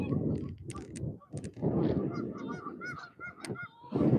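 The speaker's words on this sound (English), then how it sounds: "Beautiful Canadian honkers." Canada geese honking as they come in to land near a frozen winter fishing spot, a flurry of loud, overlapping honks in quick, irregular bursts close by.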